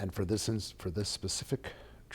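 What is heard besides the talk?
No everyday noise stands out behind the speech.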